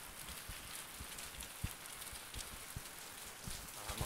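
Rain falls outdoors in a village lane, a soft steady hiss with scattered faint drops tapping nearby surfaces, no voices.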